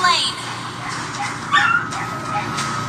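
A dog yips, barks and whimpers in short high-pitched bursts close by, layered over a busy mobile game soundscape with in-game voice lines.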